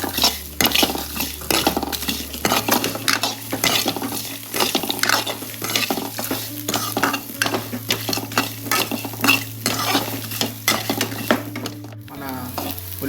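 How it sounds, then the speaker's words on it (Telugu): Cashews, almonds, melon seeds and sesame are stirred and fried on a low flame, a constant soft sizzle under quick, close scraping and clattering of a spoon against the pan. "క్యాషు, అంతపాటు పుచ్చగింజలు, అలాగే నువ్వులు కూడా అందులో వేసుకొని లో ఫ్లేమ్లో వాటిని ఫ్రై చేసుకోవాలి"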